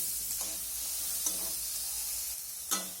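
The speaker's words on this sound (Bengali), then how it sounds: "পাকা টমেটো দিয়ে আবারও বেশ কিছুক্ষণ নাড়াচাড়া করে ভেজে নিতে হবে।" Chopped ripe tomatoes and onion fry in a pan while being stirred, a steady sizzle broken by a few spatula scrapes, the last one louder, for a pointed gourd and chicken dish.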